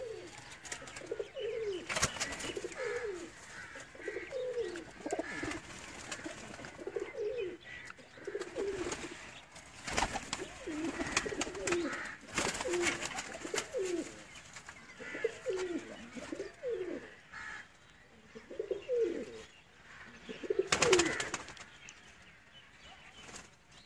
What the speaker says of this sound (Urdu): ان کے یہ بریڈر کبوتر آپ کو دکھائے جا رہے ہیں